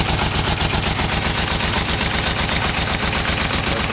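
A Yamaha Vmax engine with a small exhaust leak runs steadily and loudly up close, its rapid, even pulsing exhaust chatter continuous throughout with no talk.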